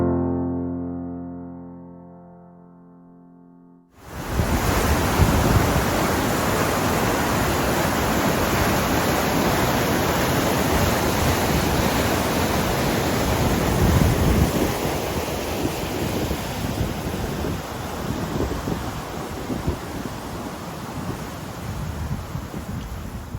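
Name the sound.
waterfall gushing water into the Atlantic, Spiddal, County Galway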